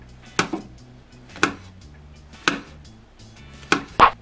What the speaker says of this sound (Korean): 그래서 슬라이스 할게요.